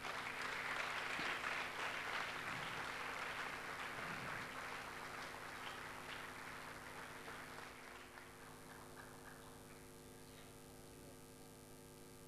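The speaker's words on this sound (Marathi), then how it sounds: "आपण सर्वजण टाळ्या वाजवूया त्यांच्यासाठी" Audience applause for a music group at a church anniversary bhajan evening, a steady full-room clapping that holds for about twelve seconds and slowly thins out toward the end.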